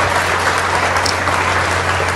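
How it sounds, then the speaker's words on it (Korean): Dense, loud audience applause for a guest singer-songwriter at a silver singing contest, a continuous wash of clapping with a low steady hum underneath. "큰 박수 한번 보내주세요."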